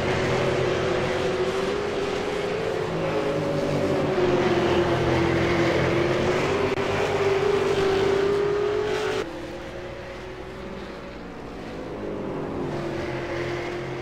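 V8 Supercar race cars roar around Brands Hatch in a racing video game, a steady loud engine drone with rising and falling pitch that eases to a lower level partway through.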